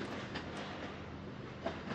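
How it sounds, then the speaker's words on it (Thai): A train rolls past steadily in the video game Black The Fall, with a dense, continuous rumble and rhythmic clatter of wheels on rails, close and fairly loud throughout with no voices. "นี่คือรถไฟเหรอหรือยังไง"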